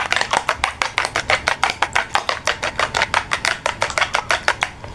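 An egg is beaten in a bowl for cakwe dough, a brisk run of evenly spaced clicking strokes repeating quickly and steadily, close and fairly quiet.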